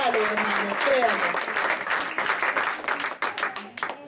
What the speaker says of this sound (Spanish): Diga amén y denle un aplauso al Señor